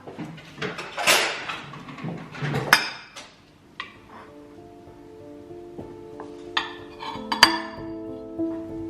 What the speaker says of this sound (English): I'm going to stir in some peas as well.